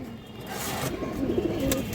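A black-necked male racing pigeon gives low, throaty coos, close and moderately loud over faint room noise, the calls rising in a short cluster toward the end.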